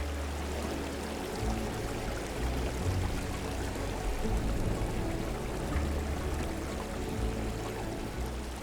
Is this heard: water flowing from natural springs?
yes